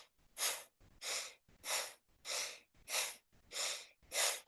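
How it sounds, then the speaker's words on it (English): Forceful yogic bellows breath, seven strong rhythmic puffs of air in a steady pulse, close and clear, with short quick inhales between them. "Now we're going to do a forceful in and a forceful out."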